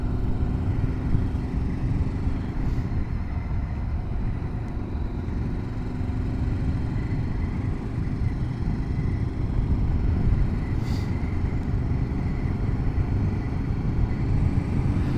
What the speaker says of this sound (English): And then you hear a lot of more engine noise, which is always fun.